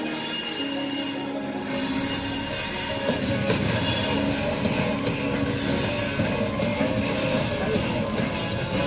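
A CSX freight train rolls past nearby, a steady loud rumble of wheels and cars with faint squeals and clatter running throughout.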